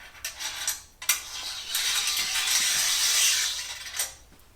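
Metal T-nuts rattle and slide down the slot of an aluminum 80/20 extrusion track in van cabinet framing, with a couple of sharp clicks followed by a sustained scraping glide, close and fairly loud.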